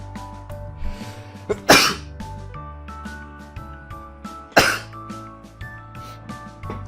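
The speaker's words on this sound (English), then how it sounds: "Sneeze." Two sharp sneezes burst out over a steady musical background, the first just before the two-second mark and the second about three seconds later.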